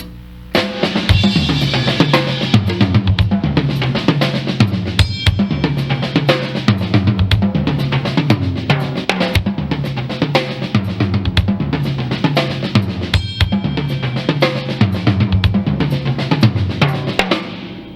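A full drum kit plays a steady groove, with punchy kick and crisp snare hits driving the pattern and cymbals and other drums filling in, loud and continuous throughout.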